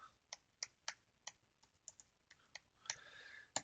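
A Wi-Fi password is tapped out on a computer keyboard while setting up an Amazon Echo Dot: quiet, uneven keystrokes in short bursts close by, with no talking.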